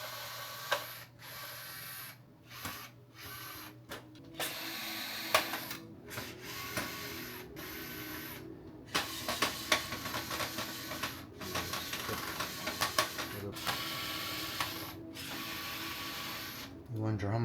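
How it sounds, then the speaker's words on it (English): A screwdriver backs screws out of a motherboard in an old PC case, giving close, repeated ratcheting clicks in short bursts separated by brief pauses. "So I shall unscrew out the motherboard."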